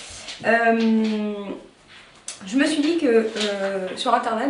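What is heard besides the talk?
bored dog whining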